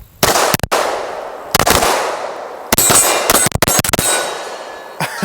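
Sig P211 GTO pistol firing a series of loud, sharp shots with ringing decay, spaced irregularly with several quick pairs, outdoors and close.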